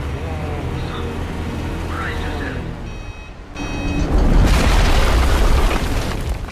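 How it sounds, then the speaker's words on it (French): Plane crash in the video game Jurassic World Aftermath: a steady low rumble of flight gives way to a loud, rushing boom of impact. "Magnifique bruit de crash"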